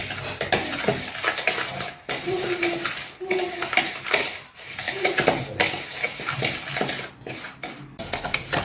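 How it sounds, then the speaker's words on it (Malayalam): Butter and powdered sugar are mixed in a bowl for a plum cake, giving steady scraping and stirring with a spoon against the bowl in an irregular rhythm, with occasional light knocks and brief pauses. "ബട്ടറിലേക്ക് നമുക്ക് പൊടിച്ച പഞ്ചസാര ചേർത്ത് നന്നായിട്ട് മിക്സ് ചെയ്യാം."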